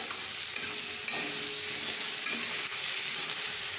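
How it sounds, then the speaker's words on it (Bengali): Potatoes and onions fry in oil in a kadai with bay leaves, dried red chillies, cardamom and cinnamon, giving a steady close sizzle broken by a few stirring scrapes, with no talking. "কড়ার মধ্যে একটু তেল দিলাম, তেজপাতা, শুকনো লঙ্কা, এলাচ, দারচিনি দিয়ে পেঁয়াজটা একটু যখন ফ্রাই হলো আলুটা দিয়ে দিলাম।"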